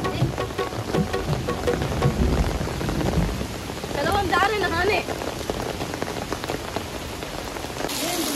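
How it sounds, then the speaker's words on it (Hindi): Heavy monsoon-style rain pours steadily onto surfaces outdoors, a dense continuous hiss with splashing water, and a person speaks briefly over it. "मतलब बारिश जो है बहुत हद तक हो रहा है"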